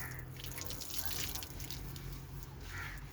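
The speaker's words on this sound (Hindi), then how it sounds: "दिखाओ कैसे सिर धो रहे हो बेटा" Running water splashing steadily in a village setting as a child washes his hair, a continuous close wash of water with faint drips and no clear talk.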